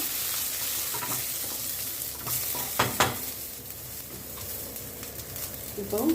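Oil sizzles and crackles steadily in a hot pan as mustard seeds and urad dal pop during tempering, with a few sharper spatters and faint stirring clinks, close by.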